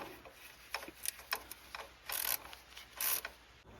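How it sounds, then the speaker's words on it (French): Glow plugs are threaded by hand into an engine cylinder head with gentle tightening. Soft metallic ticks and ratcheting clicks come in short bursts, quiet and close, with no talk. "On commence à resserrer tout doucement."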